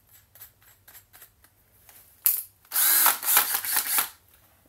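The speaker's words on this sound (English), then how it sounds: "we're going to drill out a little hole" A power drill bores a small hole during work on a Tesla coil project: a few faint clicks, then a loud close whine in two bursts lasting a couple of seconds.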